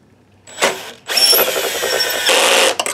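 Screws driven back into a Sony VPL-HW45ES SXRD projector with a power driver: a short whir, then a longer steady buzzing run close by, ending with a few small clicks.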